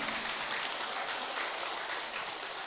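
Steady audience applause fills the space, a dense, even wash of many hands clapping at moderate distance, sustained without breaks.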